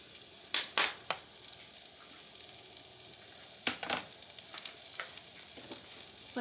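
Minced garlic sizzles in melted butter in a pan over lowered heat, a steady soft crackle broken by a few sharp clicks and pops, close by and fairly quiet, with no voices.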